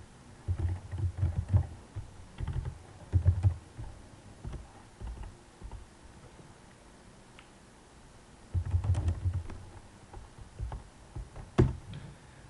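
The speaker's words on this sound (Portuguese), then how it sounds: "Vou digitar primeiro, depois eu comento cada linha desse que eu acabei de escrever." Computer keyboard typing while VBA code is being entered, close-miked taps arriving in quick bursts, separated by quiet pauses and an occasional louder keystroke, with no one talking.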